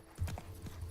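Hoofbeats of a galloping horse in The Witcher 3, a quick run of clip-clop impacts over less than a second, fairly soft with a faint whinny-like tone.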